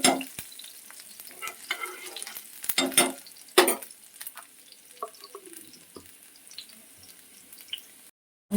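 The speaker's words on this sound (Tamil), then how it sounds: "நெய்யிலே வணக்கிக்கோங்க." Garlic sizzles and sputters in hot ghee while making palak paneer, a utensil stirring and scraping the pan, with a few louder clanks before the sizzle fades near the end.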